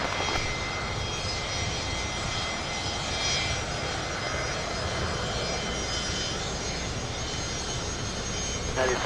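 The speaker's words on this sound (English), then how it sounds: "Cathay Pacific with the 80th anniversary retro livery departing to Portland." Cathay Pacific jet airliner in its 80th anniversary retro livery departs LAX for Portland, its engines a loud, continuous broadband roar held steady throughout, with faint talk underneath.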